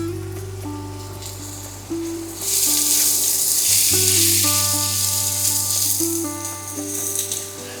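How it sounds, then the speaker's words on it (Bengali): Plenty of chopped onions frying in a pan for a festive mutton kosha: a bright sizzle swells after a couple of seconds and keeps crackling over a steady tonal hum in the background. "পেঁয়াজটা একটু লাল লাল করে ভাজবো।"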